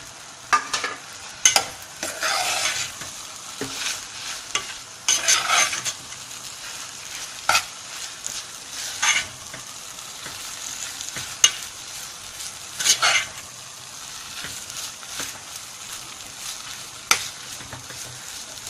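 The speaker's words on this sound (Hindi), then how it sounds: "अब इसमें हम चिकन डालते हैं।" Chicken pieces stir-fried in a pan with a steady sizzle, broken by repeated scraping and stirring strokes of a utensil, close and fairly loud, with no talking.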